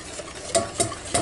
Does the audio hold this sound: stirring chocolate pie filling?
yes